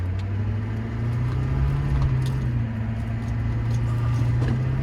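Steady low engine drone of a 2001 Chevrolet GMT800 2500 Duramax diesel pickup truck cruising, a smooth continuous hum with faint rattles and road noise, no talking.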